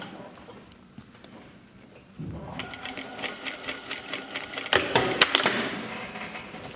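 A sewing machine topstitches the side seam of a shirt, starting after a quiet opening and then running in a steady, close, fast mechanical patter that grows louder toward the end, with no talk.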